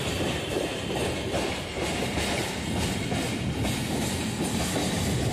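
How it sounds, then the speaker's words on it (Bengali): A Sealdah local train pulls away near Dum Dum Junction station, a steady loud rumble of wheels with faint clickety-clack rhythm filling the whole stretch, no voices over it. "সামনে থেকে বেরোচ্ছে শিয়ালদা লোকাল।"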